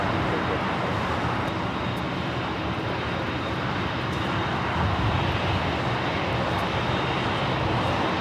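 A Virgin Atlantic airliner takes off at LAX, its engines giving a steady, broad roar that holds at an even level throughout, heard at a distance with no speech.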